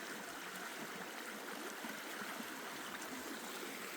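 Creek water runs steadily over shallow bedrock, a continuous close, even rushing wash with no pauses and no voices.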